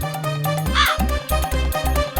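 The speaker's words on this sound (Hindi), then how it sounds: "नहीं, ये तो कौवे है।" Several crows cawing in loud, rhythmic bursts, harsh repeated calls close by, one higher squawk standing out partway through.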